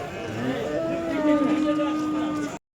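Cattle lowing at a busy Kırıkkale livestock market, a long drawn-out moo rising and falling over nearly three seconds, fairly close and loud above a murmur of crowd noise.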